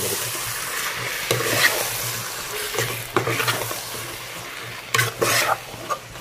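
Coriander and mint leaves are stirred in a hot pan, giving a soft continuous sizzle broken by repeated scraping and tossing sounds from a utensil, close and moderately quiet.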